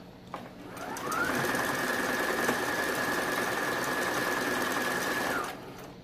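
A sewing machine runs a zigzag stitch on baby slippers, starting up after about a second, holding a steady loud whirring hum for roughly four seconds, then stopping, with no talk.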